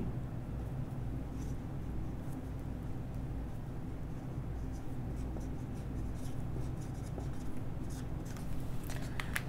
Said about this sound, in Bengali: আমি একটু ছোট দিকে লিখি